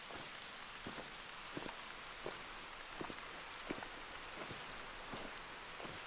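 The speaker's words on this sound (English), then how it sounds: "Oh, wow. The rain is freezing." Rain falling in a farm roleplay video game, a faint steady hiss of drops with regular soft taps and one sharper drip.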